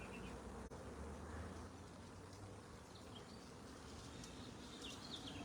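Honeybees buzzing around an opened hive during a hive split, a soft steady drone close by with faint bird chirps in the background and no voices.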